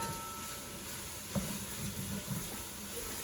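Onions and ground turkey sizzle softly in a pan, a faint low frying hiss with one brief clink and a few light stirring scrapes, no voices.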